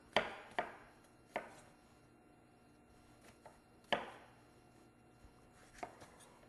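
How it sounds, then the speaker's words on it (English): A knife chops bell peppers into one-inch chunks on a cutting board, sharp irregular thuds, some in quick pairs and some spaced a second or more apart, close and fairly quiet with no talk. "you're just going to give them a quick chop into a 1 inch chunk"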